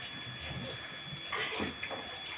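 Water is poured out at a quiet outdoor spot, giving a short splashing gush midway through a low background hum, soft and fairly close.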